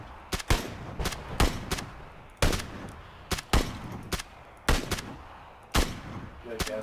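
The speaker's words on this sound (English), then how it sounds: "I'm gonna take sniper shots at him." Sniper rifle shots ring out in the PUBG video game, a steady series of loud, sharp cracks spaced about half a second to a second apart.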